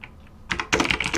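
Rapid bursts of computer keyboard typing while coding a programming exercise, a faint tap or two and then two dense runs of clicking keys, close and fairly loud, with no voice.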